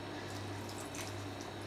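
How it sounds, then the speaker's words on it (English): Water poured into a pan of simmering rice while cooking a chicken and peas dish, a steady close splashing and trickling stream with a constant low hum beneath, no talk. "I'm going to add a bit more water because it started to stick again to the pan."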